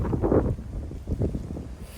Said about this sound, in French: Là clairement, il y a un peu de vent.